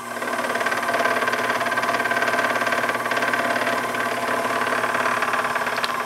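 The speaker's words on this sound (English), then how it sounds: "Now this is a climb cut, but since we're not taking a very heavy cut, I'm comfortable with the climb cut in this case." A milling machine takes a light climb cut, giving a steady close mechanical hum with a fine, regular chatter and no talking.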